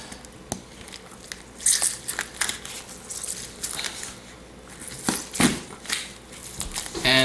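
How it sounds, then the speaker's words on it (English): A soaked Osage orange is squeezed and crushed by hand, giving repeated wet crunching and squishing bursts in an irregular rhythm, close and fairly loud, with no talk over them. "if you just let it soak for one night, you crush it a little bit, just like this"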